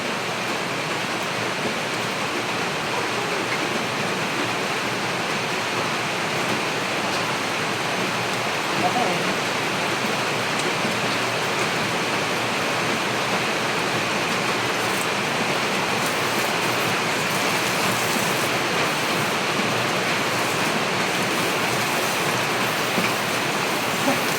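Heavy rain pours steadily at an even, dense hiss for the whole stretch, with faint voices now and then underneath.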